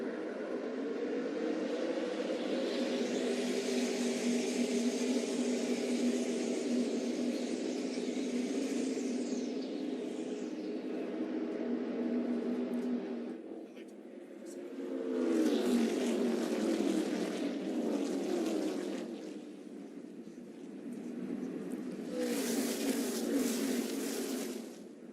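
Race cars at Pocono, in the General Tire #AnywhereIsPossible 200 (2017), accelerate together after the green flag, a dense sustained engine roar with rising pitch, then a louder swell and passing bursts of noise.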